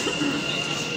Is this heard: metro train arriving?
yes